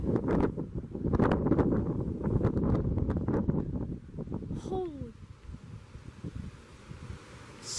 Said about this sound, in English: That was at least 60 mile/hour wind gust.